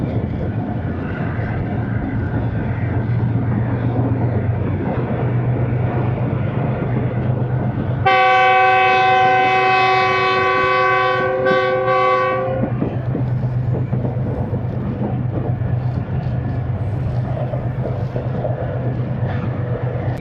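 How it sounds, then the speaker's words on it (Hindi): The Khushhal Khan Khattak Express rumbles steadily along the ML2 route, rounding a long curve southward, and a loud sustained horn blast sounds midway over the constant rolling noise of the wheels. "बड़ा कर्व लेकर एक बार फिर ट्रेन जो है जुनूब की तरफ तकरीबन चलना शुरू हो गई है।"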